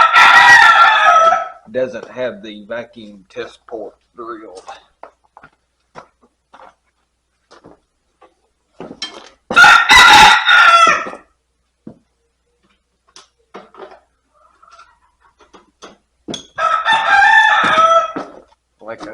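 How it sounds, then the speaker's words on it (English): Roosters crow loudly and nearby in three long, drawn-out calls spaced several seconds apart, with someone talking quietly between them about a 1947 Ford 8N tractor's manifold. "ignore the roosters crowing"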